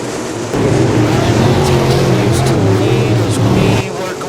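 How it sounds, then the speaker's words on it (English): Modified race cars battle for the lead at Thunder Mountain Speedway, a loud, steady engine roar lasting about three seconds with a sharp start and cutoff, the engine note rising and falling slightly with no talk. "We do have a battle for the lead here at Thunder Mountain Speedway tonight for your OPL modified drivers as Brian Nantz, Ben Petrey putting on a"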